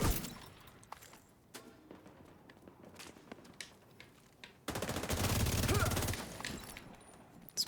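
Video game gunfire: sparse sharp shots early, then a loud continuous automatic burst lasting about a second and a half, with footstep-like clatter around it, near.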